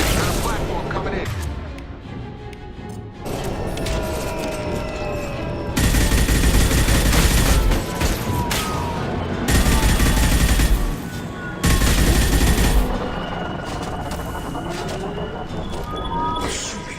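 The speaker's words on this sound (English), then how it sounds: "Taking heavy fire!" Heavy gunfire and explosions in the video game Mass Effect 2, aboard a Collector ship, come in repeated intense bursts with rumbling booms, mixed with game dialogue and background noise.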